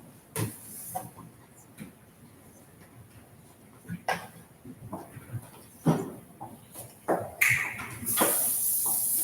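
Short hissing bursts of cooking spray onto a pizza pan, repeated at uneven intervals with clatter and quiet movement nearby.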